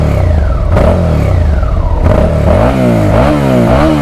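Close, loud revving of a Suzuki SV650 motorcycle engine in neutral, the pitch sweeping up and falling back in several blips with exhaust burble and clatter between them.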